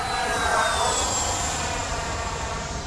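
An FMS P-40B Warhawk RC model warbird in Flying Tiger livery passes overhead while descending. Its electric motor gives a steady, moderately loud whine that slides gently down in pitch.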